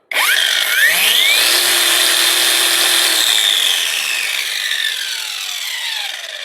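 Repaired Parkside angle grinder switched on with a momentary button, spinning up with a rising whine and then running steadily and loudly for several seconds before slowly winding down a little, with no voices.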